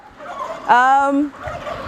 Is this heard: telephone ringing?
no